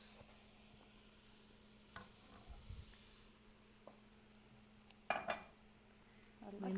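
A spoon stirs lentils, tomatoes and vegetables together in a cooking pot, with soft scraping, faint sizzling and a few sharp clinks of utensil against the pot.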